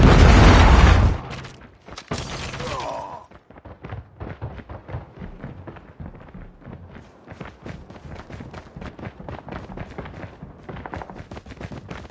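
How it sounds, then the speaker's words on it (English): A predator missile strike in a first-person shooter video game, with a loud broadband explosion boom in the opening second followed by a second blast, then a dense patter of rapid gunfire and footsteps throughout. "Predator missile inbound."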